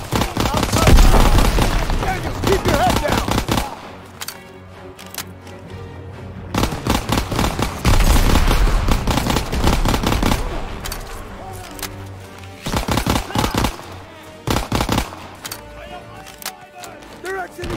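Machine gun fire in the Call of Duty WWII campaign rattles in loud repeated bursts with gaps between, near and punchy, mixed with shouting soldiers and other battle noise.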